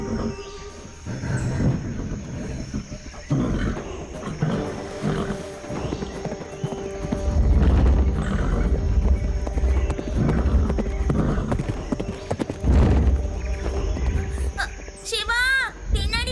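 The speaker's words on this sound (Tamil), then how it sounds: "பின்னாடி பாரு, ஒரு புல் வந்துட்டு இருக்கு." A charging bull in an animated cartoon, with heavy thudding hoofbeats and rumbling that grow louder midway, layered with roars, music and sound effects, while characters talk over the scene.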